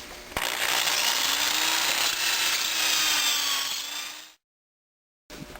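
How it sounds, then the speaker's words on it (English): A power drill whines steadily with a grinding, rubbing bite as a reamer cuts through a metal valve guide on a Fairbanks-Morse 1 1/2 H.P. engine, running for about four seconds before stopping abruptly. "Ream out drill with a guide to ream that out."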